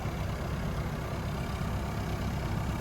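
A steady low excavator engine idles continuously, a rough even rumble at moderate level with no voices.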